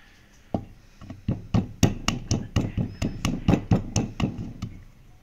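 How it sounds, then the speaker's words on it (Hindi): Almonds, cashews and pistachios being coarsely crushed, heard as a steady run of about sixteen rhythmic, fairly loud knocks and thuds close by, with no talking. "अब ये जो हमारे पास पिस्ता बादाम काजू थे इनको हम दरदरा सा पीस लेंगे"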